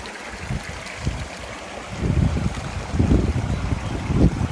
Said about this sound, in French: Donc voilà la petite rivière sympa.